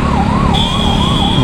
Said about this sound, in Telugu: వెనకాల పాపం అంబులెన్స్ ఇదే రూట్లో వస్తుంది భయ్యా